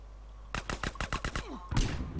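Gunfire in the multiplayer game MTA, a rapid close burst of about eight evenly spaced shots followed by a louder blast, with no talk over it.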